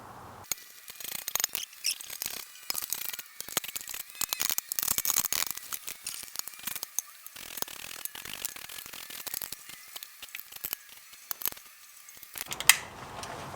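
Wrench tightening oil pan bolts on a Jeep JK: quiet rapid ratcheting clicks in short bursts with brief pauses, close and faint, with small metallic clinks near the end.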